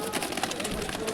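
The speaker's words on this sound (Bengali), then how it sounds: "দেখুন ম্যাদ্রাজি পায়রা আছে" Madrasi pigeons coo at a bird market in Dankuni, a soft repeated cooing close by, mixed with market bustle and people talking over it.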